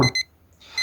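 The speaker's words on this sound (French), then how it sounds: "le réveil se met à sonner" Alarm clock ringing in a bedroom, two short bright bursts of rings followed by a pause and another burst, clear and alone.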